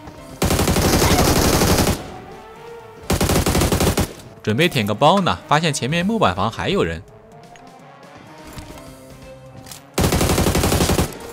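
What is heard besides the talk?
gunfire in the video game Game for Peace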